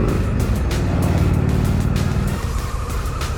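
A 2024 Harley-Davidson Pan America 1250 Special motorcycle engine roars loud and close while riding, a dense throbbing rumble that shifts in pitch partway through, with wind buffeting and no speech.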